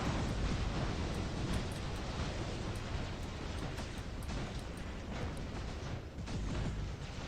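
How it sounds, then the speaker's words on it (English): A Tyr robot in War Robots fires its Blaze and Igniter flame weapons, making a loud, continuous rushing roar with faint sharp ticks scattered through it and no pauses. "Let me just fire all my weapons if I can."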